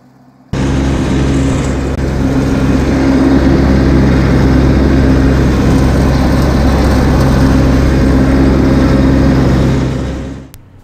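A tractor in low gear at full pedal drives a brush hog mower at 540 PTO speed, about 2800 RPM, giving a loud, steady engine drone with a low hum that runs unbroken for about ten seconds, no voices.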